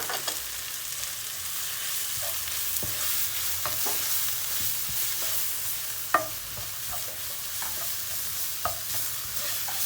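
A spoon stirs tomato paste through tomatoes and peppers in a hot pan for a meatball sauce, giving a steady sizzling hiss broken by irregular scraping clicks and one sharper knock.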